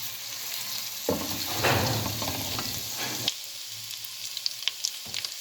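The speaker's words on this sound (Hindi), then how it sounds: "अब हम अदरक और लहसुन ये 1 बड़ी चम्मच हम डालेंगे। इसको हम ब्राउन करेंगे।" Steady, crackling sizzle of ginger and garlic browning in hot ghee, with occasional stirring scrapes and pops throughout.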